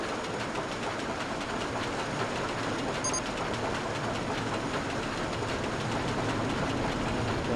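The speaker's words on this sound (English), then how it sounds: "we got a full train coming in on the Matland Express" A full passenger train rolls into the station on a ride in RollerCoaster Tycoon 3, a steady rumbling rail noise with faint clickety-clack running continuously under the game's ambience.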